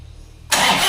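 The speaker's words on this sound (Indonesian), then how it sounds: "Nah, sekarang kita starter lagi." A Toyota Fortuner with its dashboard and speedometer lights dead fires up after a quiet half second, its engine catching abruptly and settling into a loud, steady running rumble close by.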